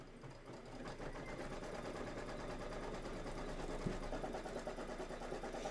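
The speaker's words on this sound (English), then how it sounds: "So now it's the placement stitch for the background fabric." A Kimberbell embroidery machine sews a placement stitch onto background fabric, giving a steady, fast mechanical whirring hum with rapid needle rhythm throughout, close and even, with one soft knock near the end.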